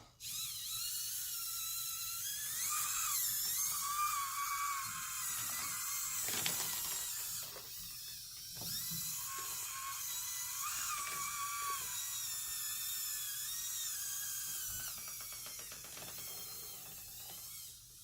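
A servo transmission in an ECX Barrage 1/24 RC crawler whirs steadily with a high, wavering mechanical whine, rising and falling in pitch as it crawls, close by.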